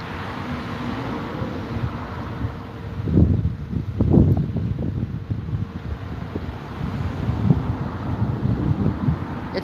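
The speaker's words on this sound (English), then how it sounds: "It's windy today." Steady wind buffeting a microphone, a low rumbling roar throughout with stronger gusts swelling in the middle, no voices.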